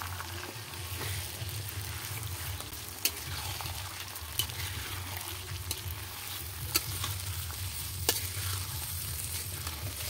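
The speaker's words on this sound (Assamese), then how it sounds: "এতিয়া দিম মাংসখিনি এইফালে মাংসখিনি লৈ ললো এইফালে পুৰা মাংসখিনি দি দিলোঁ" Goat meat sizzles in hot oil in a home kitchen pan, a steady close frying hiss broken by several sharp scrapes and knocks of a spatula as it is stirred, with no speech.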